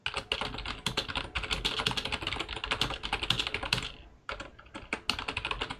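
Rapid typing on a computer keyboard, dense clattering keystrokes close to the microphone with a brief pause near the end before resuming.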